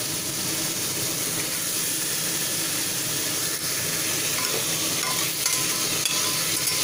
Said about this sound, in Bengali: এগুলো একটু সটে হয়ে যাওয়ার পরে এর মধ্যে আমি চিকেনগুলোকে দিয়ে দেব